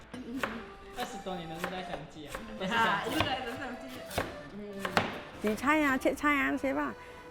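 Vegetables are chopped with a knife on a board in a steady run of crisp, close chops, with someone speaking over much of it.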